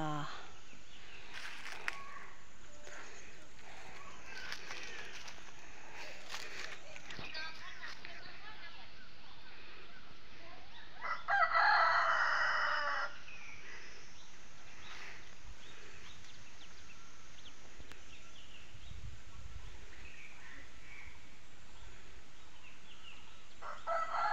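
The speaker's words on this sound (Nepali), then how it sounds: "भाले भाँच्दै छ।" A rooster on a farm with fields, a greenhouse, an orange tree and bamboo lets out a single clear crow midway through, heard at moderate distance while a person talks.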